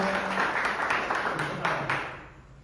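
Audience applause at a Marathi school event in Koynanagar after a poem recitation, a steady wash of clapping that holds fairly even and then slowly thins out over a few seconds.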